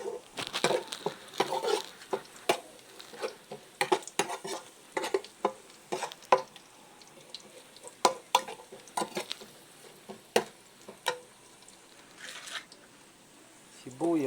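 Onion goes into a pan of toasted garlic while sauteing mushrooms, giving a soft sizzle broken by repeated scraping stirs, with a voice speaking intermittently.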